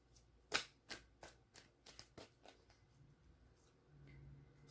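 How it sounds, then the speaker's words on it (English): Tarot cards riffle and snap in a quick series of soft slaps, loudest at first and then tapering off, close and quiet with no talking. "One more shuffle."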